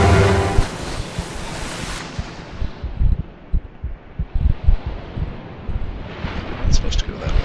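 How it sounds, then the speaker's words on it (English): Fierce wind and crashing waves in the Call of Cthulhu video game, a loud, continuous roaring rush with surging gusts and low rumbling swells throughout. "The winds here are fierce, and there isn't much shelter ahead."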